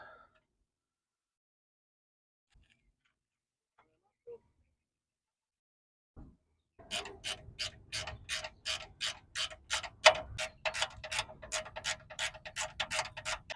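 A ratcheting wrench clicks rapidly and evenly as a fitting is threaded into a plumbing outlet, a close burst of sharp mechanical ticks that begins after several seconds of near silence.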